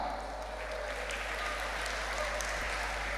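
Audience clapping for an award winner at a language department event, a sustained even patter of many hands with a steady low hum underneath, moderately loud throughout.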